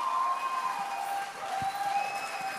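An audience at a live stage show premiere applauds, a dense, steady wash of clapping with some cheering, and faint sustained tones ringing through the crowd noise.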